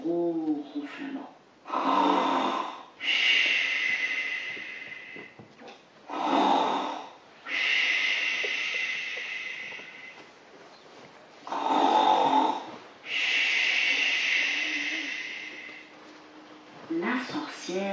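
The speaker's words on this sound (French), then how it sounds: "plus aucun bruit, juste un gros ronflement" Loud, rasping snores repeat in a slow rhythm, each long inhaled snort separated by short pauses, close and heavy throughout.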